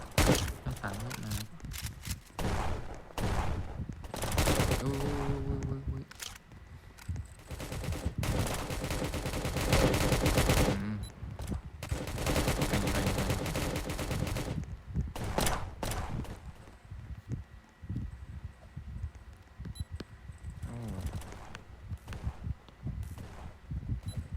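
Repeated bursts of gunfire in the Roblox Prison Life game, loud volleys of rapid shots separated by brief lulls, with occasional footsteps and quieter stretches toward the end.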